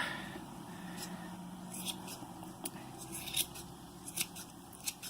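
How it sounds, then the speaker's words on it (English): Scissors snip the long strands of a yarn pompom to even it out, a quiet run of short, crisp cuts scattered across a soft, steady background. "Now, trim the long ones to match the shortest ones, so everything fluffs out from the center."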